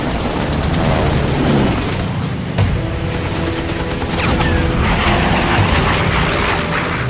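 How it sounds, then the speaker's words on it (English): P-40 Tomahawk fighters fire their machine guns in a dense, loud, continuous fusillade of rapid gunfire. Aircraft engine roar runs beneath the shooting throughout. "The approaching P-40 Tomahawks open fire."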